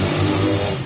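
A motorcycle engine revving close by, a loud, sustained rough drone with a steady pitch, heard in a brief burst without talk.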